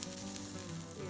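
Steak frying over a campfire gives a dense, continuous sizzle and crackle, loud and close throughout a short moment with no talking.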